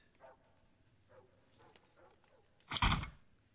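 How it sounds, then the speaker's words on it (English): A dog's bark heard at night, with faint yips and noises early on before one loud, close, harsh burst near the end. "The dog's really barking."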